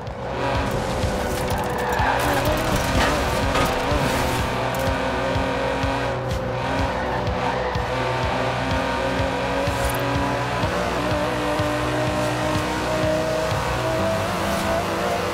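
An Aston Martin DB11 with a 5.2-litre twin-turbo V12, driven in Forza Horizon 4, roars steadily and loudly throughout, with sustained engine drone, shifting revs and bursts of tyre squeal, and no voices.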